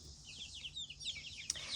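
Young chickens in a new coop, soft rapid peeping and clucking close by, with a brief sharp knock near the end.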